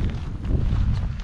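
Strong wind buffets the microphone on a cargo ship's deck during loading, a steady low roaring rumble with gusty swells, alone and fairly loud throughout.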